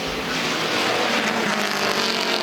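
Race cars lap the Mid Ohio circuit, their engines a dense, continuous roar that holds at a steady, loud level throughout the short stretch.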